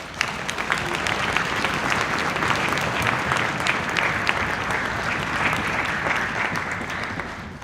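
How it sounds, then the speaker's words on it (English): Dense, steady applause from the audience at a school summer band concert, with many hands clapping at an even level for several seconds and a few sharper claps standing out. "So please give them a round of applause as well."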